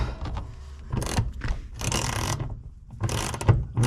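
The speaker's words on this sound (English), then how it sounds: "So we're gonna get this bolted down. We're gonna get this seat bolted down," Ratchet wrench clicking in quick bursts while tightening the last bolt that fastens a car seat down, several close, loud runs of ratcheting separated by short pauses.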